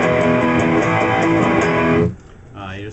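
An electric guitar plays a repeating song riff for about two seconds, then cuts off, followed by a brief quieter tone.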